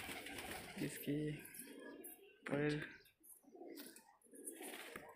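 Desi and Punjabi pigeons kept by a seller give two short, soft, throaty coos close by, while someone talks quietly around them.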